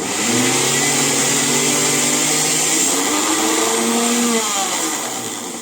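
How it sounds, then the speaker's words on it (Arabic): A blender grinder attachment whirs continuously at high speed grinding kibbeh, loud and steady, its motor pitch dipping slightly as it churns the mixture into a dough before easing off near the end. "مطحنه الخلاط هي اللي بتطحنها اهي"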